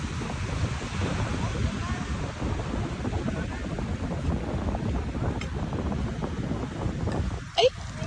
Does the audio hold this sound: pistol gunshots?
no